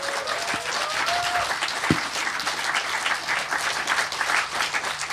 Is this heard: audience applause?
yes